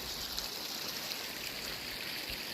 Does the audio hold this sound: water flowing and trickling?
yes